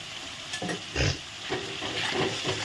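Potatoes are stir-fried in a pan with Kashmiri chili powder, giving a steady sizzle broken by a few louder scraping stirs, close and moderately loud with no talk.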